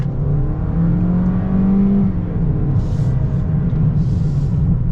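A 2022 Toyota Corolla XSE in sport mode accelerates, its engine rising in a steady loud drone with a climbing tone, then a brief shift-like dip, heard from inside the cabin without talk.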